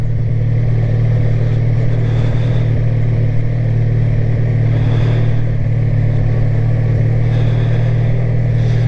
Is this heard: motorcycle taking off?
yes